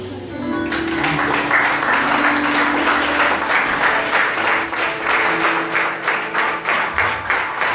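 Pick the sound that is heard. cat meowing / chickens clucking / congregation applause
congregation applause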